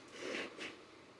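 A person blows their nose in two short, forceful bursts of air, close and fairly quiet, with no talking.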